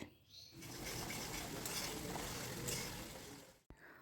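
Spices are stir-fried in a pan while cooking a pointed gourd (potol) curry. A low, steady sizzle runs under soft scraping and stirring, then cuts off with a clunk near the end.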